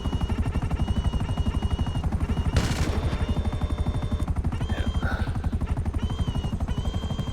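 A Buzzard attack helicopter in GTA Online flies with a loud, steady rotor chop pulsing rapidly throughout, and a brief burst of gunfire or rocket noise cuts in near the middle.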